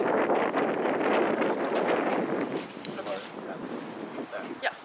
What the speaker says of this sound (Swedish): Kan inte filma så mycket här ute, det blåser på den här sidan.